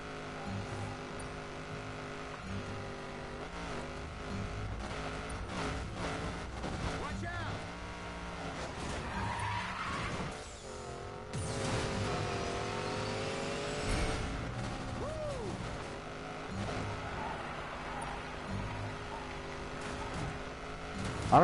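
A race car in the Need for Speed Payback video game roars around a circuit race, its engine rising and falling through gear shifts and revs, with someone talking over it.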